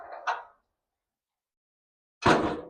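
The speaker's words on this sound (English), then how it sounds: "And then I'm going to close this door." The fuel filter compartment door on a Cat 320 Next Gen excavator swinging shut, a light rattle of the panel followed after a pause by one solid metallic slam close by.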